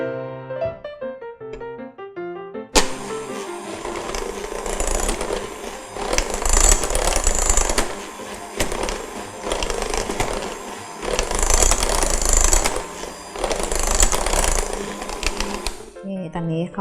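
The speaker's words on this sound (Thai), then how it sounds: "ก็ตีด้วยความเร็วต่ำก่อนนะคะ" An electric hand mixer beats banana cake batter at low speed, a buzzing whir that starts after a short musical intro and swells and eases in waves, close and fairly loud, with quiet background music underneath.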